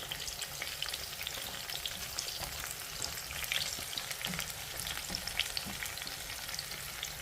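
Tomatoes set cut-side down frying in oil in a pan alongside sausages, giving a steady, close crackling sizzle with small pops throughout and no talking.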